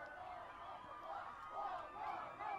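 A large crowd cheers and roars at a video game match, sounding faint and distant, with the noise swelling in waves throughout.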